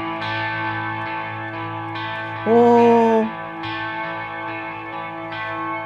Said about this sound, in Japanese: シマーっていうなんか1オクターブ上のリバーブ音が